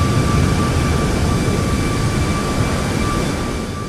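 An airliner departs in a flight simulator game, a steady broadband engine roar with faint thin tones on top, holding a constant level throughout.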